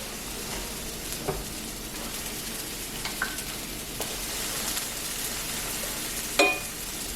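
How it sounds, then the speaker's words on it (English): Food sizzling in a hot skillet: a steady, close crackling sizzle with occasional stirring clinks and scrapes, continuous and without talk. "So we're going to toss these in a hot skillet and cook down for a sec."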